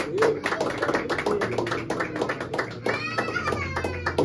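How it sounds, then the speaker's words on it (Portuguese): Church congregation clapping in quick, irregular bursts of praise, fairly loud and close, with voices and a sung or drawn-out vocal tone blending through the claps. "As palmas louvam ao Senhor."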